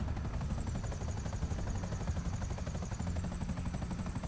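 A helicopter in GTA Online gives off a continuous rapid rotor chop and engine whine, a steady, quiet, unbroken drone.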